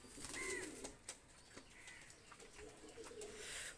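Two released running pigeons of a Pakistani breed coo in short, soft phrases, with faint wing flutters and light clicks scattered through the quiet background.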